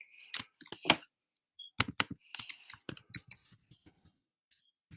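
Keys typed on a computer keyboard while entering a chart title for prices of portable GPS navigators in Google Sheets, quick irregular clicking bursts close up with short pauses and no talking.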